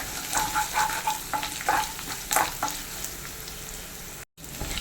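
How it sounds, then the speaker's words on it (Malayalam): Ginger, garlic, curry leaves and green chillies fry in hot oil, a crackling sizzle with a few sharp stirring scrapes early on, briefly cutting out near the end before resuming. "ഇഞ്ചി വെളുത്തുള്ളിയും കറിവേപ്പിലയും പച്ചമുളകും ഒക്കെ നല്ലപോലെ മൂത്തിട്ടുണ്ട്."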